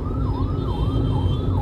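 An ambulance siren wails in city traffic, its pitch sweeping up and down in a steady cycle, loud and near, over a low rumble of engines.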